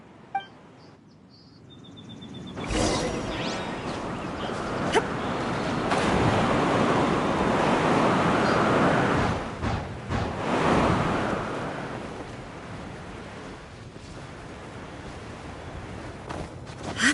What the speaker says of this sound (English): What a strong wind current. Let's ride it.